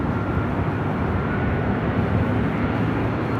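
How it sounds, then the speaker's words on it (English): A Boeing 747-8 Intercontinental airliner on Flight 18 to Seoul gives off a loud, continuous jet roar that stays broad and even throughout, with no voices over it. "Green Air Flight 18 heading back to Seoul, the first of two 747-8 Intercontinentals we will see here today"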